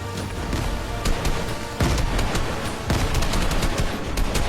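Gunfire and grenade blasts in a Fortnite battle, several sharp bursts and heavier booms spread through the clip over a constant noisy game background, with no voices.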